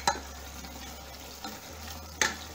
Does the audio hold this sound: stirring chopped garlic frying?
yes